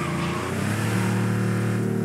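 A Porsche 930 Turbo engine revs in the video game Cyberpunk 2077, a close, loud, rising growl that climbs in pitch and holds steady, alone without talk.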